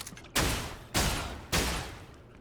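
Three loud, sharp blaster bursts from Fortnite gameplay, evenly spaced about half a second apart, each a broadband crack that decays quickly, with no talking.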